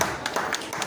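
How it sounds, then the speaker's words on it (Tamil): Clapping at a Honda showroom new vehicle launch: a brief burst of several quick, sharp hand claps at moderate distance. "கைதட்டு"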